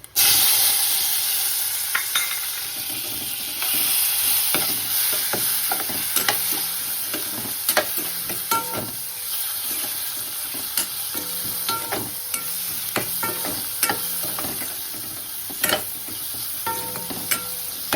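Tomato frying with turmeric and chilli powder in a pan for a no-onion, no-garlic val papdi bhaji, a loud continuous sizzle with regular spoon clicks and scrapes of stirring, close up.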